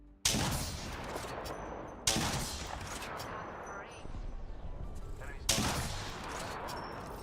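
Heavy gunfire in the battle-royale shooter Apex Legends: three loud, abrupt bursts about two to three seconds apart, each decaying into a rumbling tail, close and dominant over the game's background din.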